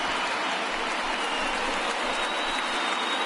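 A large stadium crowd in the MLB 19 baseball video game roars steadily, a dense, loud wash of cheering and applause that holds unbroken and without a break for several seconds.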